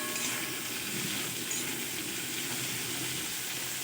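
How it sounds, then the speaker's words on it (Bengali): Dry red chillies and cumin seeds fry together in a pan, giving a soft, even sizzle that hisses steadily at close range without any talk. "শুকনো লঙ্কা আর জিরে একসঙ্গে আমি হালকা করে ভেজে নেব।"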